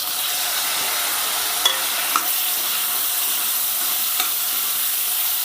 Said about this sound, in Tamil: நறுக்கி வச்சிருந்த தக்காளியை போட்டுக்கலாம்.